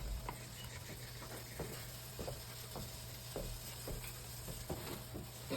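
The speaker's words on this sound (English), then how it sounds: "You can hear the steamer going off," A vegetable steamer packed with vegetables and potatoes gives off a faint, steady hiss, with soft irregular ticks and patters sounding over it.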